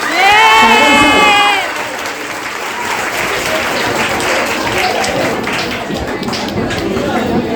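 A crowd applauding magician Sagar Shinde at a college traditional day event, dense clapping with some cheers rising after a loud voice at the start, then holding as a steady close wash of hands.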